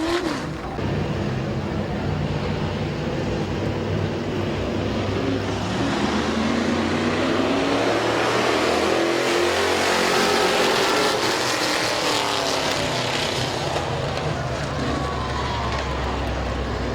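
Race cars roar away on a green-flag start at Midvale Speedway, a dirt oval, engines revving and sweeping past loud and continuous, with a crowd and announcer faintly underneath.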